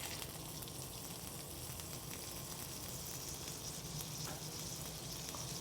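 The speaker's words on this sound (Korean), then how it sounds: "오늘은 가정에서도 쉽게 따라 하실 수 있게 팬에다가 구워서" Spanish mackerel marinated in Japanese yuan sauce pan-fries at home, skin side first, with a dense, even sizzle and crackle that holds loud and unbroken throughout, no voices.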